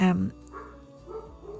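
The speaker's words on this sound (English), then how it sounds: "Excuse the dogs barking." Dogs bark indoors while someone paints trees, with one loud, close bark at the start and then a quieter stretch under steady talking.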